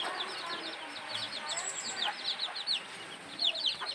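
Native chickens in a coop cluck and chirp in quick, busy bursts, with a soft voice talking faintly underneath.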